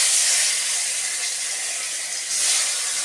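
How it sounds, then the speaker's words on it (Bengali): Hilsa fish, washed and rubbed with salt and turmeric, fries lightly in hot oil in a kadai, giving a steady, close sizzling hiss that holds throughout with a brief swell near the end. "আমি হালকা করে ভেজে নেব।"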